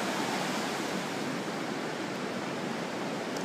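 Pacific Ocean waves in January, a steady, broad wash of surf roaring continuously without pause, fairly faint and distant with no voices.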